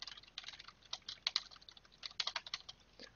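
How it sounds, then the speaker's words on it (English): Rapid clattering keystrokes on a computer keyboard during a Dota 2 match broadcast, irregular bursts of fairly close, moderately quiet clicks with no talking. "I'm just typing something because I'm curious if people in Dota TV can also hear you."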